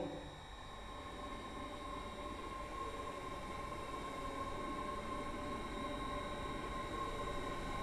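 Steady rumble of a Stepford Express train with five coaches running in the Roblox game Stepford County Railway, with a constant low roar and faint tonal hum throughout, no voices.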